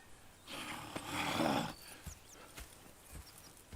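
Horses in the video game Red Dead Redemption 2, a snorting whinny-like swell followed by a few soft hoof clops, faint and nearby.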